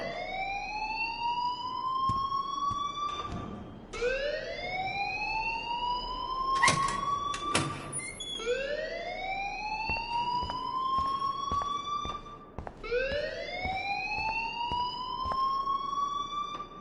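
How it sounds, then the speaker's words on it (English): In the Life Is Strange video game, an electronic alarm wails in repeated rising sweeps, about four long cycles over steady background, loud and without talk, punctuated by a few sharp clicks. "please turn off that alarm since that's your job"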